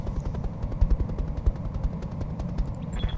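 Rapid machine-gun fire from the video game Roguetech rattles on continuously as loud, evenly spaced bursts with a steady rhythm, with no talk over it.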